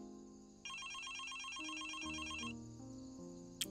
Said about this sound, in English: Man, you gonna answer the phone, though?